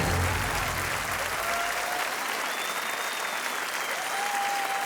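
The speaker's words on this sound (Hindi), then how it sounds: "तालियां बजती रहनी चाहिए।" Studio audience on a televised Hindi quiz show breaking into sustained applause, dense and loud, with claps tapering slightly toward the end and a faint voice beneath.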